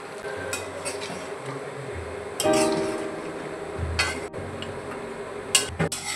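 Mutton curry pieces frying in a pan with salt and beaten sour yogurt, with scraping utensil stirs, metallic clinks and a soft sizzle running steadily underneath.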